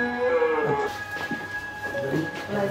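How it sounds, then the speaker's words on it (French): A cow moos from a tablet app, a loud drawn-out bovine call standing alone in a quiet room. "Vache."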